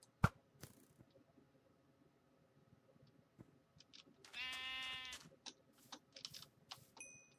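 A Minecraft sheep lets out a loud, wavering synthetic bleat midway, set among scattered game clicks and taps in an otherwise quiet scene.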